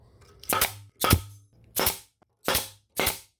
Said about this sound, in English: You just plop it on there, fire, and it goes out.